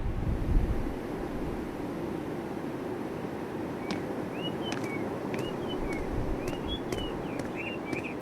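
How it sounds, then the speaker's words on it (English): Seabirds calling by the sea in Tales of Berseria, a scatter of short high chirps and cries over a steady rush of wind and surf, birds at moderate distance. "Birds."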